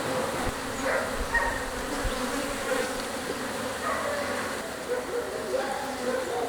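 Honeybees buzz over a brood frame in a hive, a continuous close drone with faint rising and falling whines, while a person talks quietly underneath.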